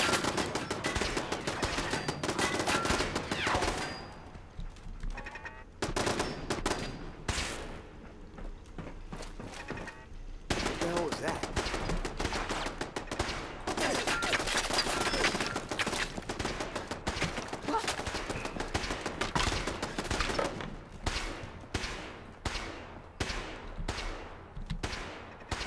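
Heavy gunfire in the video game Fallout 4, with long stretches of rapid automatic bursts and single shots aimed at the player, loud and nearly continuous with brief pauses in between.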